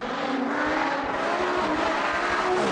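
A Lamborghini Gallardo Superleggera with its exhaust baffles removed roars loudly and continuously, its engine note rising and holding as it passes at speed.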